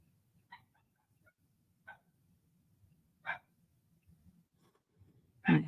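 A happy dog at home gives several short, fairly distant barks and yips spaced a second or so apart, the last one louder and closer, against a quiet background.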